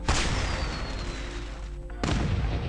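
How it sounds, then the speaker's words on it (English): A flare launching in the Arknights video game: a sudden loud whooshing burst followed by a sustained hiss with a faint descending whistle, then a second sharp burst near the end, with no talking. "That's the sound of a flare going up."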